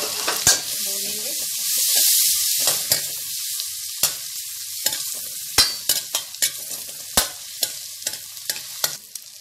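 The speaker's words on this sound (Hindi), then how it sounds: "तो इसमें थोड़ा सा डालेंगे लहसुन, गार्लिक, थोड़ा सा जिंजर, और इसको थोड़ा भूनेंगे।" Garlic and ginger sizzle steadily in a hot pan, with repeated sharp scrapes and clinks from a spoon stirring them close up, a louder burst of frying early on and no talking.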